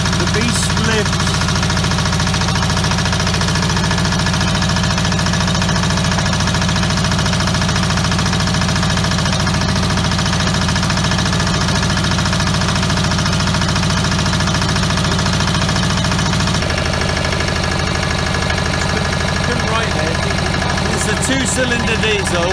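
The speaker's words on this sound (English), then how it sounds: "Two-cylinder diesel, and it's just started up first time after God knows how long." A Nibbi G 519 two-cylinder diesel hauler idles just after being started for the first time in a long while, a steady low throbbing run lasting throughout with a slight change in tone near the end, close and loud.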